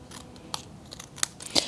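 Sharp scissor snips trim card stock for a handmade stamped greeting card: a handful of crisp, close cuts in an uneven rhythm, growing louder toward the end, with no speech.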